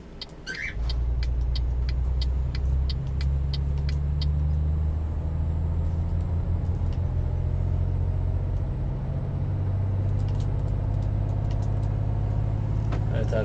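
Deep, steady rumble of a truck engine cruising in eighth gear in Euro Truck Simulator 2 on Scandinavian roads, with gear-shift dips in pitch and faint clicks over a continuous low drone.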